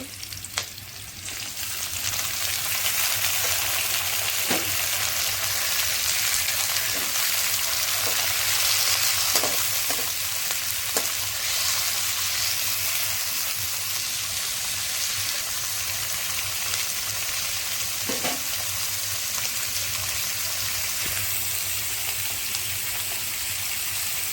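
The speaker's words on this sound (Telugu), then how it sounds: "టమాటా వేసుకుంటున్నాను ఇప్పుడైతే" Tomatoes hit hot oil in a pan for Rayalaseema-style uggani, filling the air with a loud, continuous, close sizzle and crackle that holds steady without pause.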